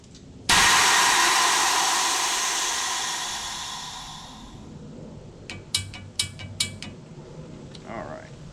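Nitrous kit being purged on an S10 engine, a sudden loud hissing rush that slowly fades over several seconds, followed by a few sharp metallic clicks and taps nearby.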